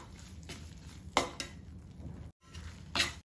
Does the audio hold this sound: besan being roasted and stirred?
yes